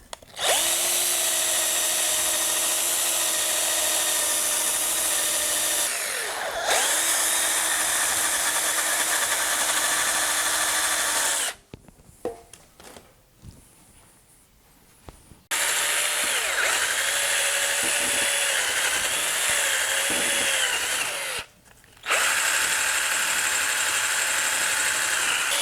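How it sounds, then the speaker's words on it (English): A drill with a wire brush wheel whines steadily at high pitch with a scraping, hissing edge on a 1972 Honda CB450 motorcycle, stopping briefly twice before running again at full speed. "I can actually get in here decently well with the wheel on the drill."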